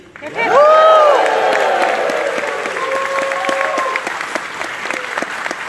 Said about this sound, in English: I think he'd appreciate a great CompTIA fan cheer at the count of three for Jerry.